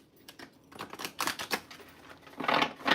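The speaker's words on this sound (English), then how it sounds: "Let's give this another quick shuffle." A tarot deck being shuffled in quick riffling bursts, with crisp papery flutters building toward a denser rush near the end, close and fairly quiet.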